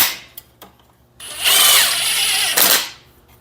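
A power tool drives cylinder head bolts down on a Simplicity snowblower engine, one sustained loud whirring run of about a second, preceded by a few faint clicks and ending in a quick spin-down.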